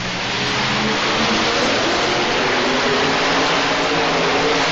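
A Ford Taurus station wagon pulls in two-wheel drive at an indoor pulling event, its engine revving hard in a sustained, loud, broadband roar that holds steady throughout with no talking.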